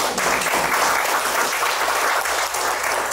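Steady, enthusiastic applause from an audience at a book launch, a dense wash of clapping hands that stays loud and even throughout.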